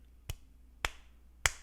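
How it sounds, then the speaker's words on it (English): Three sharp, isolated thwacks land about half a second apart, each a crisp punch-like hit over a quiet low hum, a canned clapping effect that sounds more like punches. "that's a punching sound effect."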